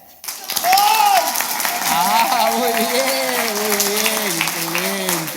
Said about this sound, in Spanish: Ese tipo de aplauso que ustedes han mostrado